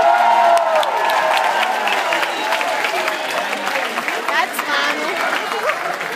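Festival audience at the Antholz Festival 2014 applauding a band's thanks to small clubs, dense sustained clapping with scattered cheers and chatter, fairly loud and steady throughout.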